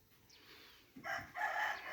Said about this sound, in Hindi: ये काफ़ी बड़ा कादावर है मुर्गा।